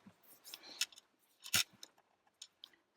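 Scissors snip through black paper to cut out eyes for a unicorn card, giving several quick crisp cuts with a sharp cluster in the middle, close and fairly quiet, with no talking.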